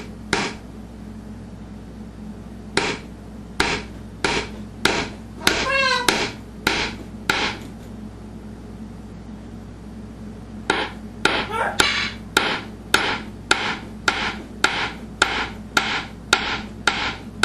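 Hammer blows drive nails into pre-drilled wood for an arcade cabinet control panel: sharp, evenly spaced strikes in two bursts, loud and close, with a bird chirping briefly between them.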